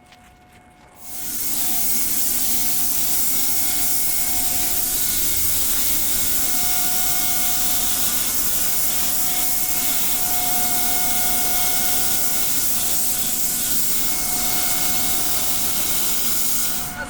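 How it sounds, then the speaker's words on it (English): Spray gun shooting epoxy sealer inside an inflatable paint booth, a steady close hiss that starts after a brief quiet and holds without a break, with a faint tonal hum beneath. "we're just shooting epoxy sealer"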